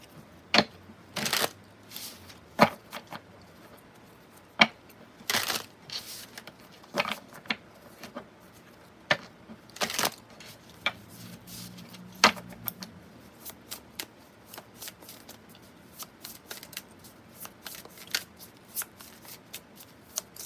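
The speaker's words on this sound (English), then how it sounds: "let's pull some cards real quick" Playing cards shuffled and pulled by hand, a long run of sharp riffling snaps and crisp flicks at an uneven pace, close and clear, with no talk over them.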